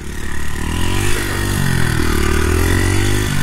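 Honda XR80 motorcycle engine running loud and close, revving with rising and falling pitch as it warms up before a top-speed run, with no talking.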